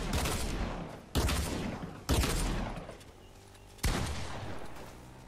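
Heavy automatic gunfire from a minigun in the video game Fortnite, several loud sustained bursts with sharp onsets and brief pauses between them, dense and close, with no talking.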